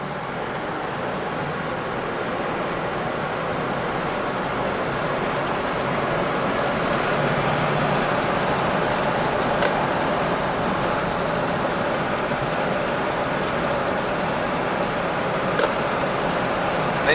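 Honda Pilot V6, running after an engine swap and a P2279 fault, drives on a test drive; a steady broadband road and engine rumble with wind noise runs continuously, with no talk.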